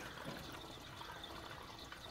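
Petrol pours from a can into a car's fuel tank, a steady, close, gurgling rush of liquid that runs without a break and without any talk.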